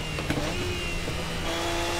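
Race car engine at Bathurst dropping down to first gear, a steady close droning roar with a sustained tonal hum and small pitch shifts, loud and continuous throughout with no talk.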